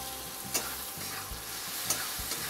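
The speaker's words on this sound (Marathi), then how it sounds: "आता हे चांगलं परतून घेते मी" Peanuts, half a tomato and a pinch of salt sauté in a hot pan with a steady sizzle, broken by two sharp spatula scrapes against the metal as the mix is stirred; no one speaks.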